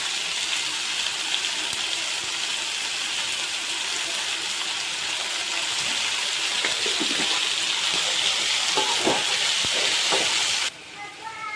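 Onions with a little salt fry in a pan, giving a steady close sizzle and hiss throughout, with a few light utensil knocks near the end.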